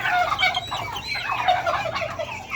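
A turkey gobbles repeatedly in rapid, warbling bursts, fairly close and loud, with no talking.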